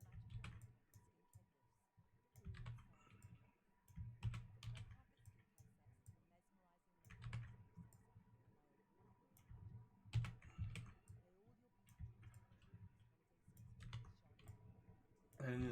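Computer keyboard clicks from shortcut presses while working on a mall build in a game editor, coming in short clustered bursts of taps with gaps between them, close and fairly quiet, along with faint background noise.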